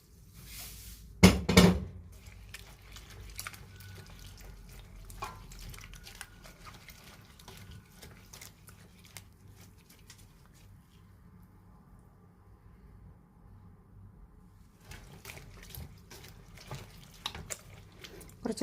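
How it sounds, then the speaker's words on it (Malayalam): Water is poured over a banana flower for washing: a short loud gush early on, then a long stretch of soft trickling and dripping from a tap into a vessel, with a fuller flow returning near the end. "ഇത് ഞാൻ ഇതിലേക്ക് കുറച്ച് വെള്ളം ഒഴിച്ചു."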